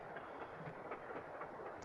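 Passenger train running steadily, a continuous broadband rumble and rattle of railcars with faint rhythmic clicks, moderately loud and with no one speaking.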